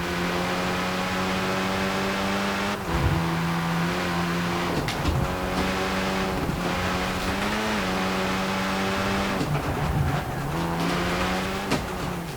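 Race car engine in a video game set around Edinburgh's West End, a steady loud drone with pitch shifts as it shifts gears and revs, occasional tire squeal, running continuously throughout.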